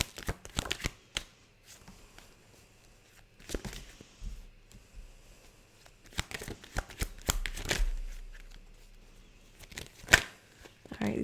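Tarot cards are shuffled close up in quick, crisp riffling bursts scattered across the stretch, with soft handling noises between them and no talk over the shuffling.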